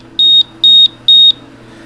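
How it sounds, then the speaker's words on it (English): A ParaZapper frequency device gives three evenly spaced electronic beeps, each about a quarter second long and steady in pitch, separated by short pauses over a faint background hum. "So it beeps 3 times again."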